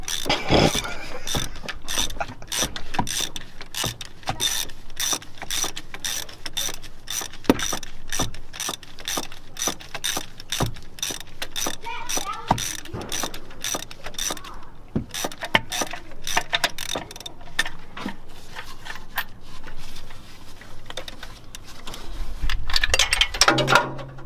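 A car jack is ratcheted up under a second-generation Toyota 4Runner 3.0 4WD. Evenly spaced metallic clicks repeat close by for over twenty seconds, with no talking.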